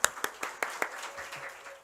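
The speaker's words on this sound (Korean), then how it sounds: "큰 박수로 한번 격려해 주세요." A short burst of hand clapping from a small congregation in a church's elementary-school room during a Friday service: about five crisp, evenly spaced claps that quickly thin out and fade.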